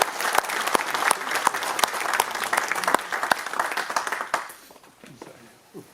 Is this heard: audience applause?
yes